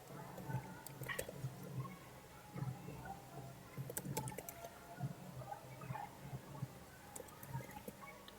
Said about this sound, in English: So let me type.